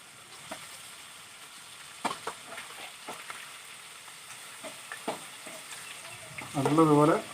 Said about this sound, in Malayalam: ഒരു പാത്രത്തിൽ നമ്മൾ എണ്ണ ഒഴിച്ച് എണ്ണ ഏകദേശം നല്ല ചൂടായിട്ടുണ്ട്. അപ്പോൾ നമ്മൾ ഓരോന്നോരോന്നായിട്ട് ഇട്ട് കൊടുക്കും.